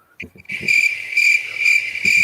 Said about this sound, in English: yeah, they're the crickets